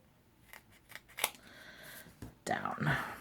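Scissors snip through adhesive strips for a shaker card craft, a few short separate cuts followed by louder crinkly handling and cutting near the end, close up with no talking.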